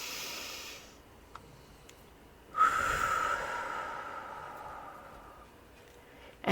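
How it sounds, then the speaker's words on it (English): A single deep breath during a guided breathing exercise, heard as a brief sniff first and then a long, close, airy inhale-exhale lasting a few seconds, alone in a quiet room. "Take a deep breath with me"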